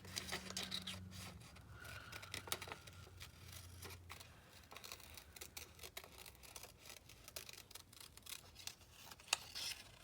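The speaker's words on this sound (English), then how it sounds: "Maybe if I do cut out my pizza piece here." Scissors cut a pizza-slice shape out of paper, with quiet close snips, rustling and scratchy paper handling continuing throughout.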